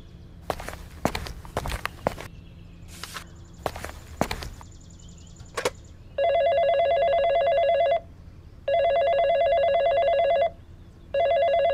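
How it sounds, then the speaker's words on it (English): Footsteps and clatter come first, then a telephone rings in three long electronic bursts with short gaps, loud and close, and the call goes unanswered. "No one's picking up the phone."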